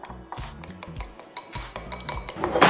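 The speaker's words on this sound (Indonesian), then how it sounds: "Oke, langsung aku kocok." Eggs whisked briskly in a bowl for one-pan egg toast, a rapid series of close, sharp clinks and taps of the utensil against the bowl in uneven rhythm, with no talk.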